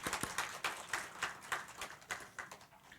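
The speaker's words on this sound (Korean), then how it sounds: "여러분 박수로 격려하겠습니다." A church congregation at a Sunday worship service claps in applause, a faint, fairly sparse patter of hands continuing steadily throughout.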